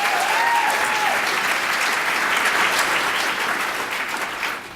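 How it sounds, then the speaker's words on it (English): A loud, dense wash of applause from a large audience at a gathering for people with type 1 diabetes, holding steady for several seconds before easing slightly at the end. "Round of applause for that."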